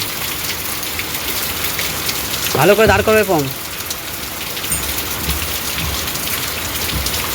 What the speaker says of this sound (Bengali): ঝড়ে বৃষ্টি হচ্ছে গো